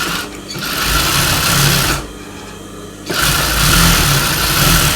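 A sewing machine stitches tucks into a blouse lining, running in a loud, steady whir, pausing for about a second, then starting up again close by with no talk.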